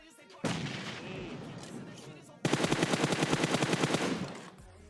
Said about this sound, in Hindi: एक आध जगह मैं फायरिंग भी करता हूँ